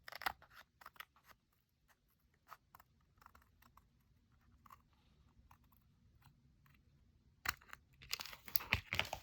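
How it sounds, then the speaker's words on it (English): Scissors snip through glued collage paper in a scattering of quiet, close crisp cuts, with a denser flurry of louder snips and rustling paper near the end. "So we're going to cut this part off."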